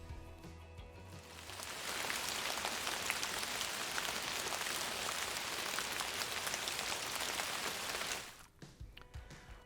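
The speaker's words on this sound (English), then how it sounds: "Let's make it rain again and see what happens this time." Simulated rain patters loudly onto a model farm with a tank for storing manure. The dense, even hiss starts about two seconds in, holds steady for some six seconds, then stops abruptly.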